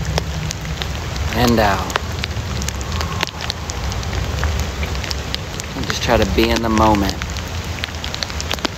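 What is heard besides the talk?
rain falling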